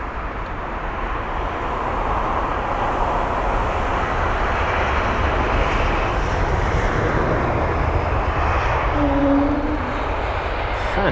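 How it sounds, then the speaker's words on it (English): An Air Baltic Airbus A220-300 airliner at London Heathrow gives off a steady broad engine roar, loud and continuous across the whole stretch, with no one talking. "Here's Air Baltic and the A220. It's the 300."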